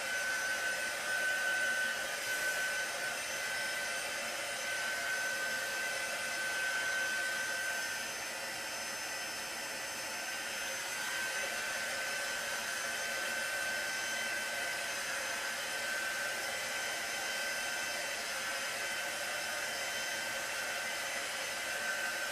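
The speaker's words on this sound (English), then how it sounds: "heat tool" A small heat tool for mixed media art journaling blows steadily for the whole stretch, a constant close airy whir with no break and no talking.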